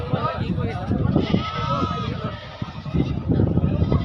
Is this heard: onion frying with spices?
no